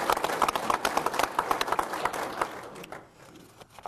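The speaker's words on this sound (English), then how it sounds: "Give yourselves a big applause." A crowd at an electric cooperative's annual meeting claps briskly, with dense, evenly spread applause at moderate distance that thins out and fades toward the end.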